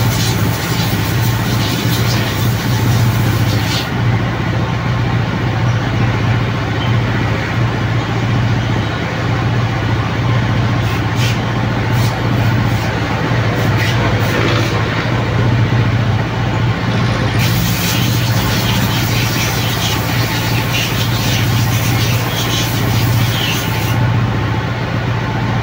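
A stock motorcycle engine runs at wide-open throttle after an ECU remap that raises the rev limit to about 10,000 rpm. It makes a loud, continuous droning roar that holds nearly steady throughout, close to the listener and with no talking.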